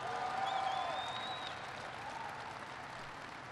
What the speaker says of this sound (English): So give it, Kathleen, a big round of applause.